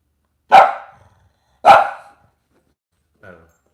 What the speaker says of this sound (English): Yep, I just heard the bark.